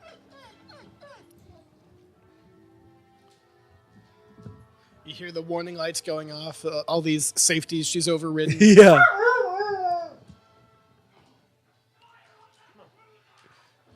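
Dog-like creatures in the Star Wars film The Last Jedi whimper, yip and howl in a rising cluster of cries for several seconds, with people talking quietly before it.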